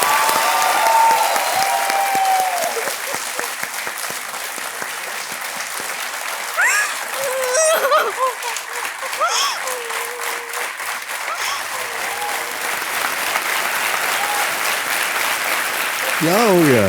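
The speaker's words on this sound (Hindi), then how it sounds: "ताली बजते रहे स्वाति के लिए" Studio audience applause on a Hindi television quiz show set, loud sustained clapping filling the room for most of the stretch while a host talks over it.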